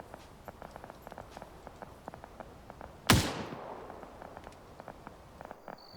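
A single sharp gunshot cracks loudly in a video game set in an SCP facility, its report decaying over about a second amid faint, steady footstep-like ticks before and after.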